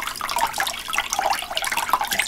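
Water poured onto a dry sponge makes a steady, close splashing trickle that runs unbroken for about two seconds, with no voices.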